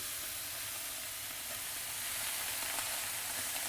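Salmon fillets sizzling in a hot pan, a steady, close, crackling hiss that holds level and grows slightly louder toward the end, without speech.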